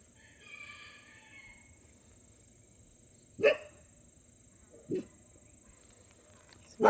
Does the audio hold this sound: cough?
no